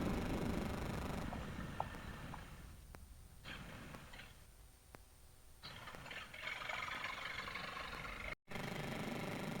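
A Honda CRF 300L dual-sport motorcycle idles steadily through its stock exhaust, a quiet, even low rumble running throughout, close by and without speech.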